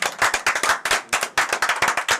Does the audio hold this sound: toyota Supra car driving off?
no